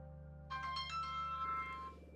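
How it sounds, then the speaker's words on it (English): A mobile phone ringtone plays from about half a second in, a bright melodic chime of steady repeating notes lasting a couple of seconds over a low hum, with no talking. "My phone is ringing."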